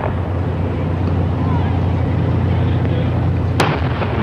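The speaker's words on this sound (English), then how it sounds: "The 21-gun salute has started." A single cannon boom from a 21-gun salute greets President Kennedy's arrival in San Diego in 1963. It sounds as one sharp report through steady outdoor rumble and crowd noise.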